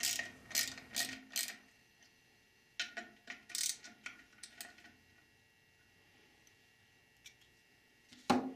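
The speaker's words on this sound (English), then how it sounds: "Use a T25 Torx bit and ratchet to remove the two bolts which fasten this snap ring access cover." A ratchet turning a T25 Torx bit clicks in short bursts while bolts come off a snap ring access cover on a Chrysler 46RE transmission, crisp and close with pauses between runs.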